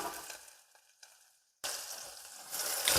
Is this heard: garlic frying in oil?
yes